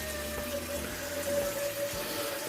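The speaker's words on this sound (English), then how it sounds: "I'm going to add hot water because we want all this essence out of here" Hot water pours steadily into a cooking pot of warm food, a continuous close splashing and gurgling wash with a faint steady whine underneath, no talking.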